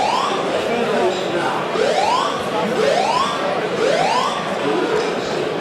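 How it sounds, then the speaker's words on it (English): A fire alarm wails at a boxing event, its tone sweeping upward in repeated whoops roughly once a second, loud and continuous through the whole stretch. "Whilst we hear the fire alarm"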